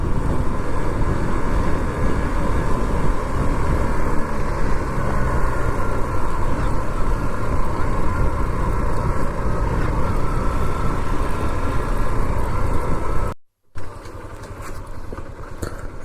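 Motorcycle riding on a road trip through hills and dense forest toward Purulia makes a steady, loud engine drone mixed with wind rush, running continuously with a brief dropout near the end and no talk.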